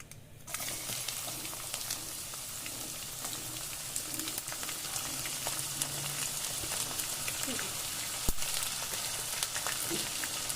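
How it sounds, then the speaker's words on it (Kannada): Garlic frying in hot oil for a mango pickle gives a continuous soft sizzle and crackle, with an occasional faint clink of a utensil, steady throughout. "ಬೆಳ್ಳುಳ್ಳಿ ಹಾಕ್ತಾ ಇದೆ ಅಜ್ಜಿ."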